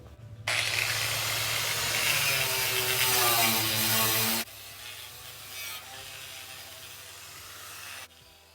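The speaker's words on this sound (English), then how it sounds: "I've got the frame wire brushed, buffed, cleaned up." A power tool with a wire brush wheel scrubs a Freightliner FLD 120 truck frame, giving a loud, rough grinding hiss for several seconds before winding down to a quieter, steady motor hum.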